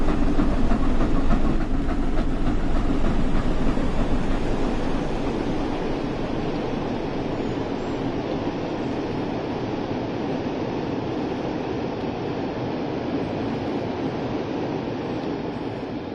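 Flying Scotsman steam locomotive in Train Sim World 4 running at moderate speed on the East Coast Main Line, a steady broad rumble of wheels and running gear that stays loud and even throughout, with no speech.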